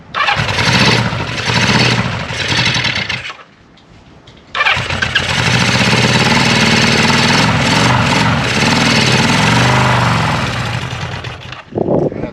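A Honda CB 550 motorcycle engine starts and runs loud and close, then cuts out briefly before restarting and running steadily, with another dip near the end and no voices.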